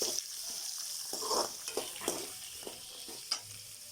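Chopped onions and curry leaves sizzle steadily in hot oil in a pan while cooking onion chutney, with scattered stirring scrapes and soft pops close by. No one speaks.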